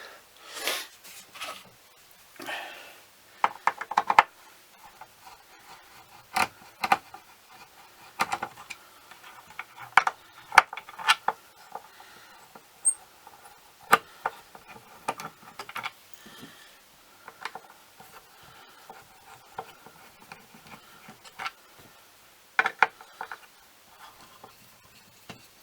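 Sharp irregular clicks and taps of tools and parts while the neck comes off a Les Paul style guitar, scattered through quiet stretches of faint handling noise, close up.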